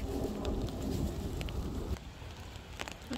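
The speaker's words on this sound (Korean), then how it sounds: "천둥번개치고 비가 와요." A thunderstorm in sunny weather brings a heavy, rumbling wash of rain and thunder that eases partway through into lighter steady rain, with no talking.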